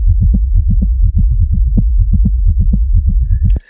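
A deep, throbbing low-end techno bass loop with a vinyl-like feedback character pulses in a steady rhythm, muddy and rumbling, then cuts off abruptly with a brief high squeal.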